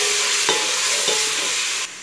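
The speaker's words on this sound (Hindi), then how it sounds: "अब इसको यहाँ पे भून रहे हैं, थोड़ी सी लाइट गोल्डन हो जाए।" Ginger-garlic paste frying in oil in a pan while being stirred: a steady loud sizzle with a couple of soft scraping strokes from the spoon, close up and without speech.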